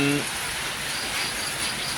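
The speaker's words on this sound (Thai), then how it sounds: "ฝนตกแต่เช้า" Steady morning rain falls heavily and evenly, a dense continuous hiss of drops on surfaces, with a brief tone at the very start.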